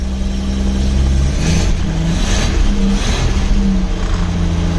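A 1946 Chevrolet Stylemaster engine fires up with the choke pulled, a steady loud engine roar with a rising rev partway through, running continuously without talk.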